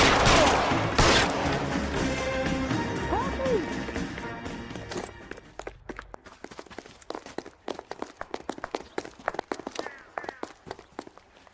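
Gunfire in the police video game L.A. Noire: a dense burst of shots over running, hoofbeat-like clatter and scene noise, followed by a string of sharp, separate gunshots spaced out and fairly close.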